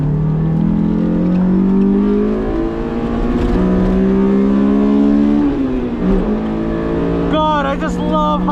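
A stock Honda S2000 on a race track revs high through the gears, its engine note climbing in steady pitch sweeps with a brief dip at a shift, loud and close throughout, with a voice talking over the engine near the end.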